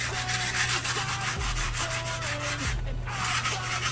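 A small damp sanding block rubbed back and forth over wood in steady repeated strokes, close and fairly quiet over a constant background hum.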